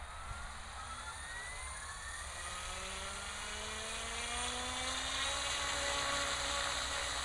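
OMPHOBBY M4 Max RC helicopter rotor spooling up outdoors in snow: a steady whine whose tones rise smoothly over several seconds, fairly faint and continuous, with no talking.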